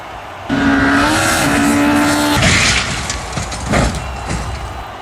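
A Hyundai i20 Coupe diecast rally car runs down a track, starting with a loud rolling whine that holds for about two seconds, then breaks into rattling, clattering bumps as it tumbles on.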